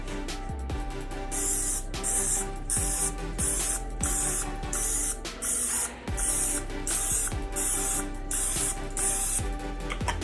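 Repeated short hissing sprays of cooking spray, about a dozen quick bursts in a steady rhythm, close by, with faint clicks and clatter between them.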